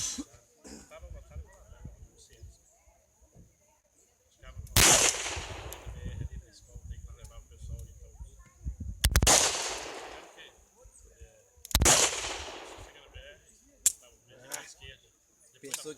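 Three loud, sharp .38 revolver gunshots ring out several seconds apart at a shooting course, each with a short echoing decay, with quiet movement and faint voices between them.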